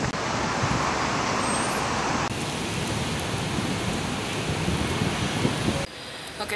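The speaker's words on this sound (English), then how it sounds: "And now it's like the peak hour in Singapore. It's super traffic jam." Peak-hour traffic in a Singapore jam rumbles as a broad, steady roadway wash, moderately loud and continuous, with a slight shift partway through and no voices.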